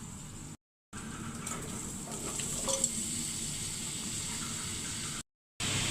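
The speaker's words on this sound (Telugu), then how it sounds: "దీంట్లో కొంచెం ఆయిల్ వేసి దోసకాయలు వేయిస్తానండి" Cucumbers frying in oil in a pan with dried red chillies, cumin and a little tamarind, a steady close sizzle with occasional stirring scrapes, brief gaps of silence, and no talking.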